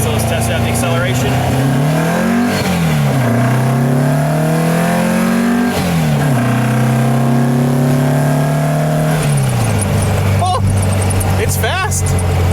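A custom 1955 VW Beetle with a 2276cc engine accelerates hard, the engine climbing through the revs with several gear shifts, loud and close from inside the car, with a voice talking over it.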